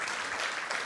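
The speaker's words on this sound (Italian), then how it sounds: "Applaudiamoli." Audience applause at a Cagliari event as a theatre company is honoured for an award, a dense even patter of many hands clapping together throughout the brief moment.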